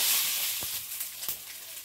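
Five-spice tempering hissing in hot oil left over from frying fish, a steady bright sizzle with a couple of soft pops.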